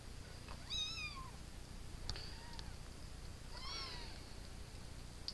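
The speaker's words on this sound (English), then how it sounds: "That's kitten number 4." A solid gray kitten with a white belly meows several times, high rising-falling cries spaced across the clip, close and fairly clear against a steady background hiss.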